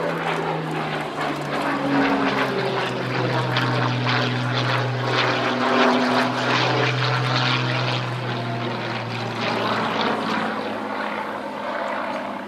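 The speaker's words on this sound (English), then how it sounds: "This particular aeroplane, built during the Battle of Britain in 1940" A 1940 propeller fighter aeroplane built during the Battle of Britain flies at an Old Warden airshow, its piston engine droning loudly with shifting pitch as it passes, steady and close with no talk.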